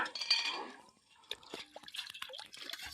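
Murrel fish being washed and cleaned in water at a riverside cooking spot, with splashing, dripping and light clinks in bursts after a quiet gap.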